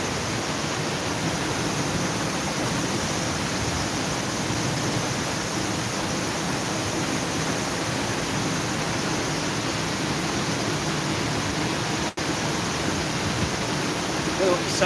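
Water rushes steadily at a fishing spot in Manchester, a constant broadband roar that holds nearly unchanged throughout with no clear voices above it.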